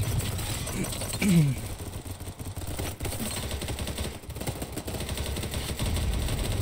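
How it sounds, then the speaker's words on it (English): Gunfire in the video game BattleBit, dense continuous rattling bursts behind the player over a noisy battlefield background, with voices under it. "why is there so much gunfire behind me?"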